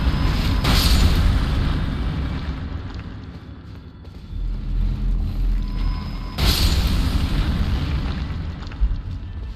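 Bombs explode in Elden Ring Shadow of the Erdtree, giving two deep, booming blasts several seconds apart over a rumbling, busy game background.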